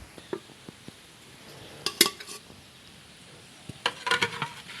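Cooked gorgoriya pitha is tipped out of a pot, with a few faint clinks and scrapes followed by two brief clusters of clattering metal and soft splashing, no talk.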